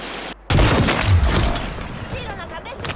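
Gunfire in Warzone 3 quads play, a dense burst of close shots and booms following a brief quiet gap, loud and continuous with scattered game sounds.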